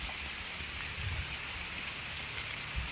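Steady rain falls and patters on surfaces outside a hemp grow house smart farm, a continuous even hiss with a few low thumps of drops, moderately loud and without speech.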